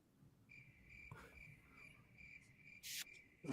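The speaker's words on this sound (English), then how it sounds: "I hear the crickets chirping." Steady high-pitched cricket chirping, faint and continuous, with a brief sharper noise near the end and no talking.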